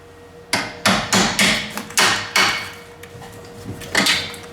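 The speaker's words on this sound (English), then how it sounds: "I have to use my hammer" A hammer strikes a car suspension bolt in a series of about eight sharp, ringing metallic blows at close range, evenly spaced at first, then a pause and a final couple of hits.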